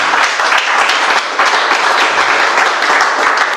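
A church congregation claps and applauds loudly and steadily, a dense continuous round of clapping with scattered voices mixed in.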